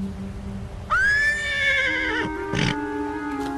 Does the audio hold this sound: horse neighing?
yes